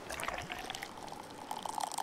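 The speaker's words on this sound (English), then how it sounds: "I don't get this pouring minigame." Beer pours into a glass in the Dave the Diver pouring minigame, a soft continuous liquid stream with faint trickling and fizz, fairly quiet and steady across the short moment.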